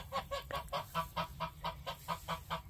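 A flock of geese honking in a steady run of about a dozen loud, evenly spaced calls, close by and with no talk over them.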